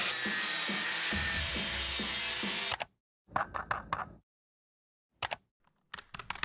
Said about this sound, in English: it's maybe time that we stop talking and start grinding.